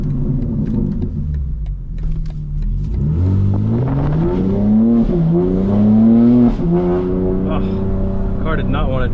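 A 2025 BMW M4 Competition engine roars and accelerates through several rising revs and gear shifts while drifting a turn, loud and close, with a faint voice underneath.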